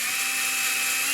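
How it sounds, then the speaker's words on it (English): A power drill with its clutch set around 5 or 6 drives screws into ToneRider Blues pickups on a Fender Telecaster, giving a steady, close, high-pitched whir for just over a second with no talking. "you can use a power drill"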